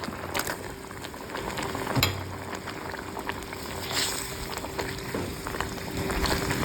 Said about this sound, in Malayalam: നമ്മുടെ മാങ്ങാപ്പഴം ഇട്ട മീൻകറി ഇങ്ങനെ തിളച്ചുകൊണ്ടിരിക്കുകയാണ്